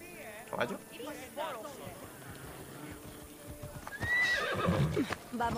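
Horse neighing and hooves clip-clopping in the video game Assassin's Creed Odyssey, several whinnies over steady hoofbeats, with someone talking over it.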